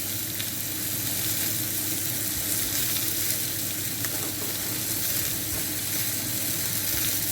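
Sausage and an egg fry in a single pan on a gas hob, a steady, continuous sizzle and crackle at close range with no voices over it.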